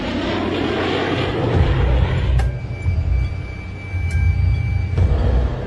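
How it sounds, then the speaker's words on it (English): Jet aircraft roar from F-16 fighter jets closing in on a stricken airliner over Athens, a steady loud engine rumble with a few sharp transient clicks, no voices. "As the 2 fighter jets approach"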